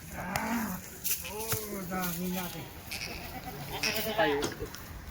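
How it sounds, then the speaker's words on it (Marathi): A tall goat of Junagadh, Gujarat quality bleats repeatedly at a livestock sale, loud and near, its wavering calls overlapping with people talking nearby. "लंबी शेळी ती"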